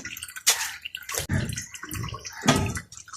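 Water poured into a container in a village kitchen in Haryana's Mewat region, coming in a few separate splashing bursts with quieter trickling between them, close by.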